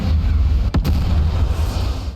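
A reactor explosion in the Final Fantasy 7 video game, heard as a loud, sustained roar with one sharp blast cracking through midway before the rumble cuts off.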